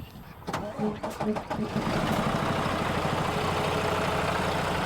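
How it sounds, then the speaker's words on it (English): Scania diesel engine in a truck cranks over with a few uneven starter pulses, then catches and settles into a loud, steady, low idle nearby. "So watch that engine spin over up there, Ryan, and they'll see it takes a lot of gum"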